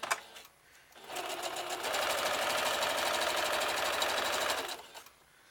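A sewing machine stitching a pleat on an underquilt, a close, steady rapid whirring burst of about four seconds that starts and stops cleanly, with brief quiet handling before and after.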